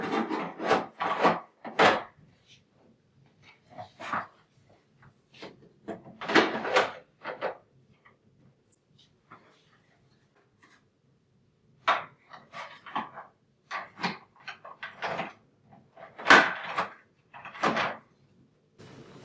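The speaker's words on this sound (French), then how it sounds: "Une fois terminé, réinstallez le contenant soluble dans la machine." Plastic soluble ingredient container being slid back into a Cafection Encore Venti coffee machine, with scattered knocks, scrapes and clunks in short bursts separated by quiet gaps, close by.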